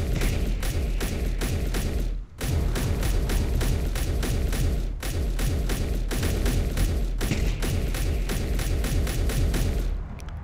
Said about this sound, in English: Those things are flak turrets with anti-personnel machine guns on them too